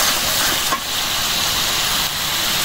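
Masala paste and softened onion frying in a pan give a steady, loud, broadband sizzle and hiss with no pause, set outdoors under a beach umbrella at Cox's Bazar.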